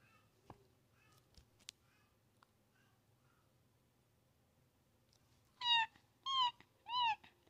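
A human voice imitates a cat, giving three short rising meows in quick succession after a quiet stretch with faint clicks and a low hum in the background.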